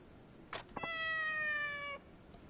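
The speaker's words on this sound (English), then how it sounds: "Only purring in reply. This cat's like, I'm not trying to hear that." A cat meows in the video game Like a Dragon: Ishin, one clear drawn-out tonal meow of about a second after a brief sharp onset, close and isolated against a quiet background.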